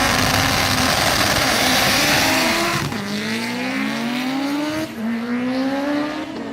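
A 1300HP all-wheel-drive Honda Civic drag car with an H-pattern stick shift, its engine screaming at high revs and then climbing through rising gear pulls, loud and close with no talking.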